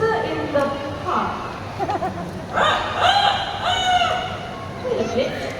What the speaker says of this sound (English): A rooster in the park.